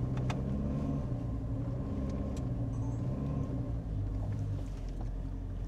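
A Toyota Innova Zenix Hybrid, fully loaded with passengers, drones on a steep incline of about 15 degrees, a low steady engine and road rumble heard from inside the cabin with faint rattles and no talking.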